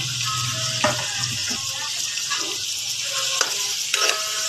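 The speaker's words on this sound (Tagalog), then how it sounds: "Gisa-gisa lang po natin siya hanggang sa mag-brown ang karne" Meat and tomato sauté in a pan until the meat browns. A loud, steady sizzle runs throughout, broken by a few soft scraping stirs close by, with no voices.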